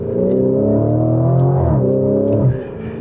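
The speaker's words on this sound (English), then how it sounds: "It makes a good noise. It's legit pretty loud. A nice V8 rumble" A 2025 Lamborghini Urus SE's V8 roars loudly up through the revs, a close, rising harmonic growl that shifts pitch mid-pull before dropping off and settling lower near the end.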